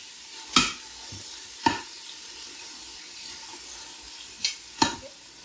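Pork browning in an Instant Pot for sweet and sour pork, heard as a low, steady sizzle with a few sharp utensil clinks and scrapes spaced through it. No one speaks.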